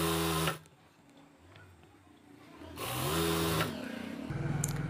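An electric sewing machine stitches a cloth pillow cover with a bar tack in short runs: a whirring motor burst at the start, a quiet pause, then longer buzzing runs that resume toward the end.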